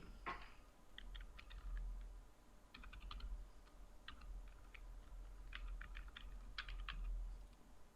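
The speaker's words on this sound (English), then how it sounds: "Now click close and type your email." Keys clatter on a computer keyboard as an email address is typed into a fillable PDF form in Adobe Acrobat Pro DC, coming in short bursts of quick, fairly quiet clicks with brief pauses, close by, over a low hum and with no talking.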